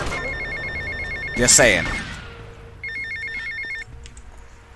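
A payphone rings in Grand Theft Auto Vice City, two bursts of electronic trilling ring separated by a pause, with a person's voice speaking over the first ring.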